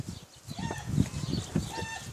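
Chickens clucking in a vegetable garden, a few short, close cackling calls with a faint crow-like note rising over low garden background noise.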